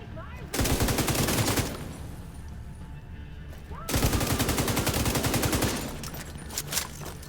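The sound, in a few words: gunfire in a video game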